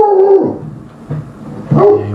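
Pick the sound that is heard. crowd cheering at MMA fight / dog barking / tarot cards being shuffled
dog barking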